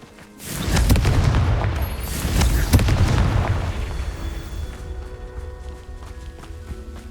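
A Confringo blasting spell in the Hogwarts Legacy video game sets off a loud, deep explosion that booms and rumbles for several seconds before fading out.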